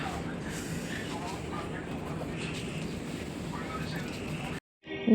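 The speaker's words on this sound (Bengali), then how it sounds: "পুরী স্টেশন থেকে আমাদের ট্রেনটি রওনা দিল হাওড়ার পথে" A train rumbles steadily as it pulls away from Puri station, a constant low roar with rattling underneath and faint voices around, ending in a brief cut.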